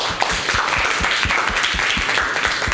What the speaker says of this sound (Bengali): সকলের জন্য একবার জোরে হাততালি হয়ে যায়